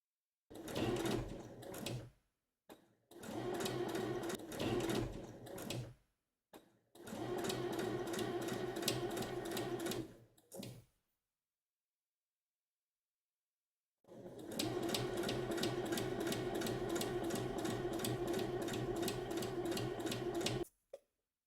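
A sewing machine stitches fabric for a collapsible bowl made with a square set from a large block collection, running in four steady bursts with short pauses between them, close and clear, with no talking.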